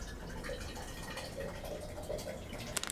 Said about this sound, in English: You're hearing me pour my juice in a cup.